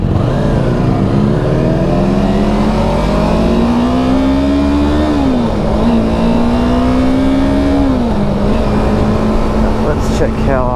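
A car engine revs up with a rising, wavering pitch, holding high before dropping back, loud and close, with steady road and engine rumble underneath and some talk in the background.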